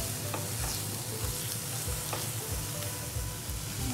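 Frying in hot oil in a pan, a steady dense sizzle with soft rhythmic stirring strokes underneath, close and continuous for the whole stretch with no talking.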